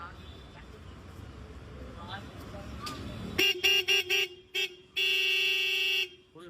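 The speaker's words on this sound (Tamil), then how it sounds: "ஸோ அவங்களுக்கு பெரிய ஹார்னை ஃபிட் பண்ணி கொடுத்துருக்கோம்" After someone talks, a loud oversized horn fitted to a Hero Splendor motorcycle blares in several short honks followed by one long sustained blast, close and piercing.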